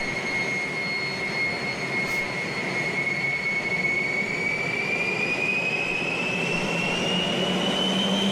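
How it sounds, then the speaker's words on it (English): Cessna T-37 jet engines running with a piercing high-pitched shriek, a steady whistling tone that slowly rises over a broad roar, continuous and fairly close. "it generated a very, very high-pitched shrieking noise while it was running"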